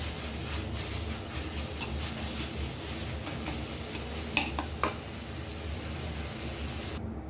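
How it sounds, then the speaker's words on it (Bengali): Ginger, garlic and almond paste cooks in a pan for an egg masala in a home kitchen, giving a steady soft sizzle with a few sharp clicks of stirring partway through. "আমি 3টা ইনগ্রেডিয়েন্ট একসাথে মিক্স করে নিলাম, হালকাভাবে কুক করে নিলাম।"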